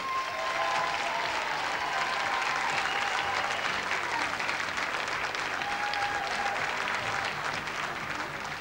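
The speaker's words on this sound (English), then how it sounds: "and especially for Livy, I'd like to just applaud all of these people, because I think they've been amazing." A studio audience at a televised music show claps steadily throughout a dance contest segment, dense even applause with faint cheering and a few brief tones rising above it.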